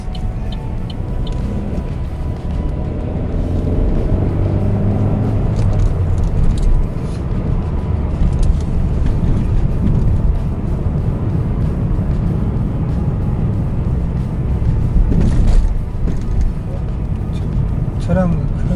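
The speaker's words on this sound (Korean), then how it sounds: "지금 차량 통행이 많아서" Heavy road traffic rolling past a manual-transmission Chevrolet Aveo taxi, a steady broadband rumble of many vehicles with a louder pass near the middle and end, running continuously under conversation inside the car.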